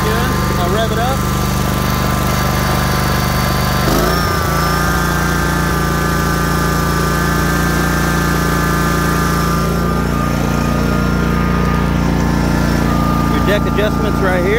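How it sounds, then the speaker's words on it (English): Encore PRO-LINE Z52 commercial zero-turn riding mower engine running loud and close, a steady high throttle drone that holds almost throughout, with a brief dip around the middle before resuming. "I'll rev it up."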